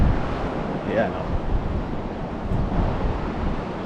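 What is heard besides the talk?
sea waves at a beach resort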